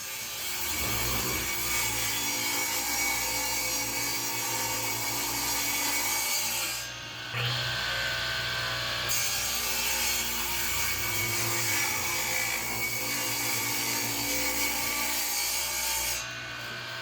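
Table saw ripping a short piece of wood with dust collection switched off: a loud, steady whining cut with a brief dip near the middle, then it continues strongly to the end.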